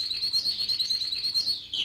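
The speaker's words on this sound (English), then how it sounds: "In its cage, the yellow canary sang happily" A yellow canary in its cage sings a bright, continuous, high warbling trill for about two seconds, close and clear with no other sounds.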